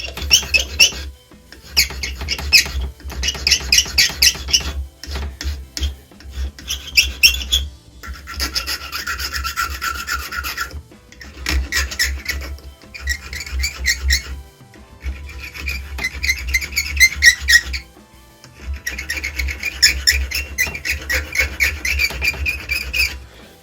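Flat of a steel awl scraping burrs off the worn wooden body of an old, broken French grooving plane (bouvet), a close, dry rasping in repeated bursts with brief pauses between strokes.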